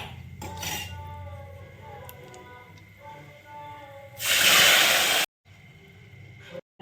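Cooked dal is poured into hot tempering with turmeric in a pan, giving a loud burst of sizzling hiss after some clinking of utensils, with faint household background.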